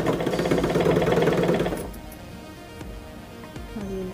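A sewing machine stitches a churidar top in a tailoring lesson, running with a fast, steady mechanical rattle up close for nearly two seconds, then stopping and leaving quiet room sound with light clicks.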